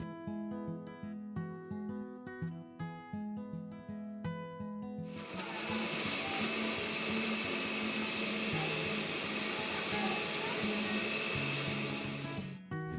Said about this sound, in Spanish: en la licuadora coloqué piña ya en trozos, agrego agua y la vamos a licuar